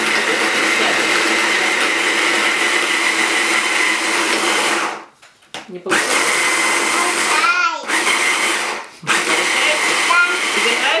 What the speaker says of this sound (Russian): Тебе нравится блендер?